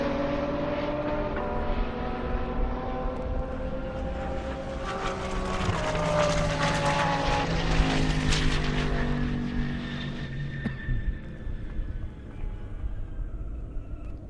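A Lamborghini Huracan and a Camaro drag race down an airport airstrip, with loud rising engine roars that build, peak, and then fade into the distance.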